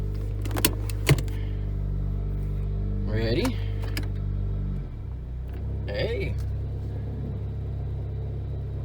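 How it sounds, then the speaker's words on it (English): A Geo Prizm's steady low engine rumble runs throughout, idling a little high, with a couple of clicks and brief speech over it, the engine tone shifting partway through as it goes into reverse. "car's running. You can tell it's idling a little high."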